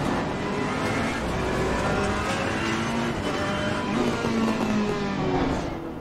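A Ferrari 488 GT3 race car in Assetto Corsa Competizione drives on track, its engine roaring continuously with rising and falling revs through gear changes, loud and close, without speech.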